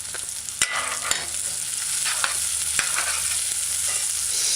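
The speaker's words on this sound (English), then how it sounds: "Now after 30 seconds, add mashed" Mashed garlic fries in hot oil in a pan for a cho-cho and okra stew, a bright continuous sizzle punctuated by several crisp knocks of a spoon on the pan while stirring, no talking.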